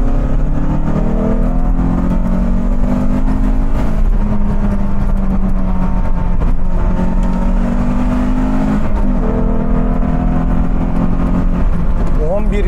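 A car engine pulls hard at full throttle in third gear up a hill, fitted with freshly installed NGK BKR6EIX iridium spark plugs. The loud, steady drone climbs in pitch throughout, with a voice occasionally audible over it.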